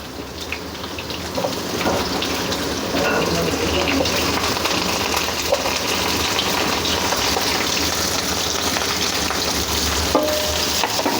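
Onions sauté in a pan as the base for paneer masala, giving off a loud, steady, close sizzle that hisses without break throughout, with no talking over it.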